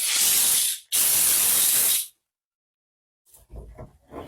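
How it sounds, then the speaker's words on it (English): A steam cleaner sprays hard on long-settled dirt on a mini truck, two loud close hissing bursts with a brief break between them, then silence and a few softer handling noises. "The steamer does an amazing job on top of my awesome sauce of breaking down all this dirt that's been settled for many years."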